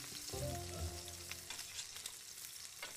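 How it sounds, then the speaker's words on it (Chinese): Glutinous rice cakes sizzle in a pan as they fry, a steady close hiss with occasional crackles after a brief low clunk at the start. "现在煎糍粑，入味就比较香一点"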